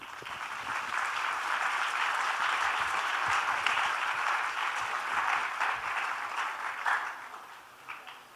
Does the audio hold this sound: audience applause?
yes